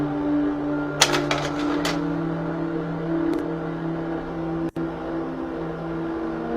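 A carousel slide projector runs with a steady mechanical hum, broken by a quick cluster of clicks early on and a sharp clack later as the tray advances.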